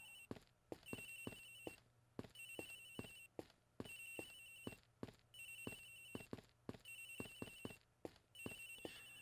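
A cell phone rings in repeated bursts of a bright, tinny electronic melody from the Ace Attorney Investigations video game, with soft thumps between the rings and no talking.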